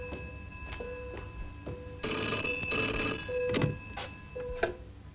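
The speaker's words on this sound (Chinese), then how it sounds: "娴姐，听电话啊！" An old telephone bell in a Hong Kong TV drama rings in short repeated bursts, with a longer, louder jangle in the middle, close and clear with no talk over it.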